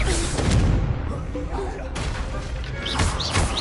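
Explosions from the Confringo spell in the video game Hogwarts Legacy burst several times in quick succession, with heavy thuds and crackling debris over busy battle noise.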